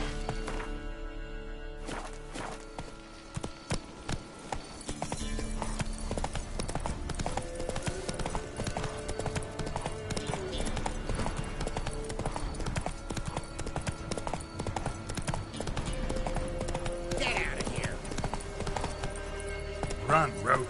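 Roach the horse galloping in The Witcher, a rapid, steady clip-clop of hooves amid busy game sounds and music, with a voice talking over it.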